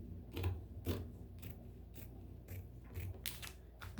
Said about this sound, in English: I'm going to cut all the way up to the top of this cover